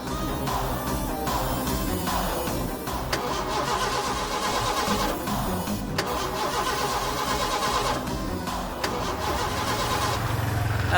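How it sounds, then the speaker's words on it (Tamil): A car engine cranks repeatedly without catching, a rhythmic churning starter sound that stops and restarts several times, loud and close, with no talking. "வண்டி ஸ்டார்ட் ஆகல, என்னன்னு கொஞ்சம் பாருங்க."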